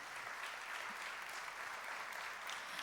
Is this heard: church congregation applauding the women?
yes